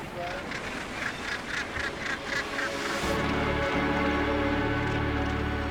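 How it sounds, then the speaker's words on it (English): Fulmars call harshly at close range during an attack on people, a run of repeated cackling honks at first, then a denser overlapping chorus of calls with wind and rustling underneath. "Fulmars have just attacked us and spat that fetid oil at us."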